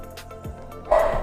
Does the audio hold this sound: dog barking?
yes